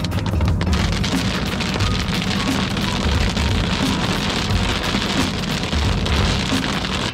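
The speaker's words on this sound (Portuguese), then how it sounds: "Olha a chuva chegando." Steady rain arriving outdoors at a gravel bike event, a dense, loud hiss of drops hitting surfaces with no pauses throughout, and no voices heard.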